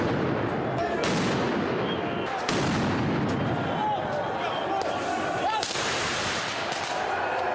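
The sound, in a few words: firework mortar shots fired at police during a riot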